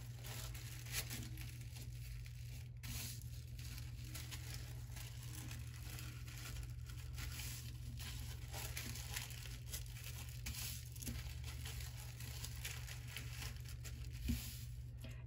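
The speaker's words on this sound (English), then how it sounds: "We're going to do this accordion style folding for the entire piece of paper." Tissue paper is folded back and forth accordion style for a paper flower craft, giving soft, steady crinkling and rustling close by over a low constant hum, with no talking.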